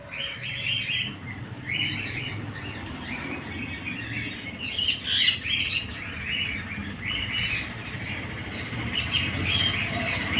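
Monk parakeets near hatching eggs chirp and squawk in repeated short bursts, several birds calling over a low background rumble, moderately close and fairly steady across the stretch.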